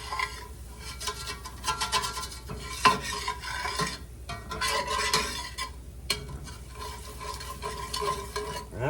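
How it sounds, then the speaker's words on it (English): A roux is stirred in hot oil in a pan, with repeated scraping and clinking of the utensil against the pan over a steady sizzle, close and heard alone. "So we can stir it and make us a roux with it."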